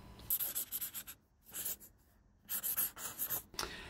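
A black Sharpie marker squeaks and scratches across white paper while a signature is written, quick close strokes in short bursts separated by a brief pause.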